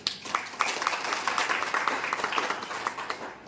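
An audience applauds the Radha Swami organisation at a gathering, with steady, moderately loud clapping from a crowd of many hands that carries on throughout with irregular sharp peaks.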